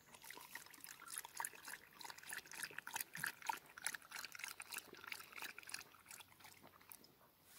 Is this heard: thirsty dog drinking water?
yes